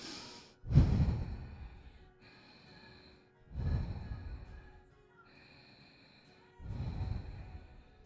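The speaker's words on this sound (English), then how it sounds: "you remember your breath. Inhaling and exhaling here" Slow, deep yoga breathing, three strong breaths spaced a few seconds apart, each rising to a breathy peak and fading, heard up close in an otherwise quiet room.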